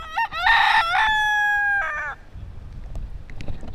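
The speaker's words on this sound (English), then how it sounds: "there are chickens everywhere." A rooster crows loudly and close by in downtown St. Croix, U.S. Virgin Islands, a long drawn-out call, followed by faint clucking and rustling in the background.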